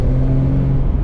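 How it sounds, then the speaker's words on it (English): A supercharged 2010 Audi S4 B8 engine revs, loud and close, with a steady deep droning tone held for about a second and no voices. "I can tell this is a supercharged car."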